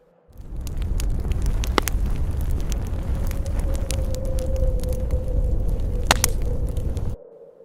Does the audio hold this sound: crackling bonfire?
yes